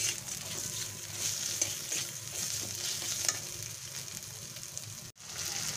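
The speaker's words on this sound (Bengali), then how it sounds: "মশলার সঙ্গে গোবিন্দভোগ চালটা কষে নিলাম" Gobindobhog rice being stir-fried with spices and a little water in a pan, a steady close sizzle with scraping stir strokes running throughout, briefly cut off near the end.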